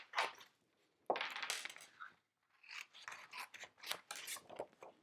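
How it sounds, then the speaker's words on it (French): Scissors snipping through a sheet of paper during a craft project, several quick crisp cuts in two bursts separated by a short pause, close and clear with no talking. "ma feuille va pas passer, je vais découper un petit morceau."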